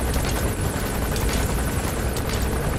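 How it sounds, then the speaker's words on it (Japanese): A helicopter in the video game Metal Gear Solid V gives a loud, steady rotor roar that holds throughout, with no voices over it. "怖い怖い怖い、ヘリどっか行って、"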